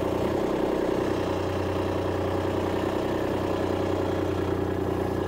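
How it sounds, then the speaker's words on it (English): A tractor with a front-end loader, stuck in place, runs with a steady low engine drone and a mild rise in revs, loud and continuous with no talking. "So I'm going to rev it up a little bit."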